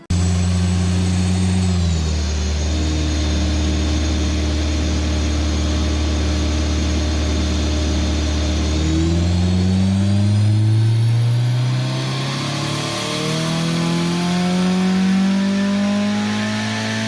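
A Nissan CA18DET engine runs on a dyno, holding a steady loud drone that drops in pitch, then climbs through several rising revs near the end, close and with no talking.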